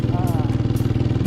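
A fully restored, modified motorcycle with a handmade silencer idles close by in a fast, even thumping rhythm with a slightly uneven, misfiring beat, and a voice briefly sounds over it.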